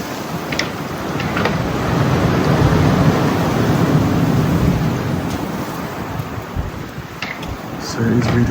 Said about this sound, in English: The wind is picking up, it's going to get even windier